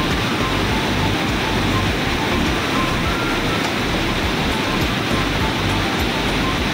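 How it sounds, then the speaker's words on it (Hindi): Water rushes through an open gate of the Pauri dam near Amarkantak, a loud, continuous roaring torrent that stays steady and dense throughout, with no voices. "यहाँ पे एक गेट भी खुला हुआ था, तो इससे आप देख सकते हो पानी की तेजी में बह रहा था।"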